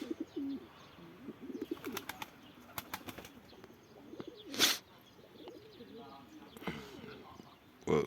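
Loft pigeons with newly hatched chicks coo low and steady, with a sudden close burst of flapping wings midway and another at the end, while people talk quietly nearby.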